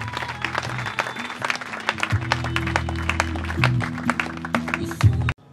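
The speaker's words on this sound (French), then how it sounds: "Si on peut acclamer pour notre Seigneur" A funeral congregation claps together in steady, fairly loud applause for several seconds, with a low hum of voices beneath, stopping abruptly near the end.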